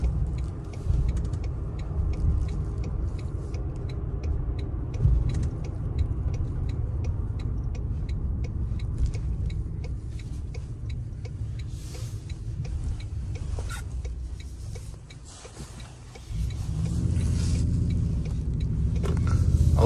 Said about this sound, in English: I love how the engine growls